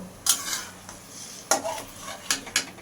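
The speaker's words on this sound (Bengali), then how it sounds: "চিকেনটা মিনিমাম দশ মিনিট ফ্রাই করে নেব" Chicken pieces for a restaurant-style chicken biryani stirred in a frying pan over a low to medium gas flame, with a few scraping stirs and clinks over a soft sizzle, nearby and fairly quiet.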